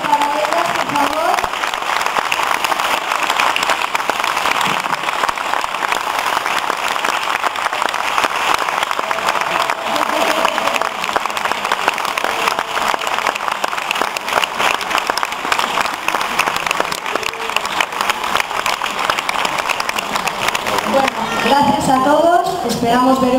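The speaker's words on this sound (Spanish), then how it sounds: "quiero un aplauso muy grande para estas tres presentadoras que se han estrenado hoy" Sustained, loud audience applause for three presenters at a Christmas festival, dense continuous clapping that holds throughout with crowd noise and some voices mixed in.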